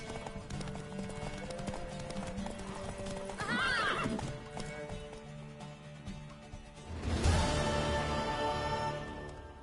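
Horse hooves clip-clop steadily in a PS4 video game, with a loud neigh around four seconds and another surge of hooves and whinnying near seven seconds, all set over game music and ambience.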